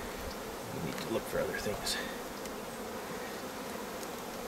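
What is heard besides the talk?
honeybees and drones buzzing at a beehive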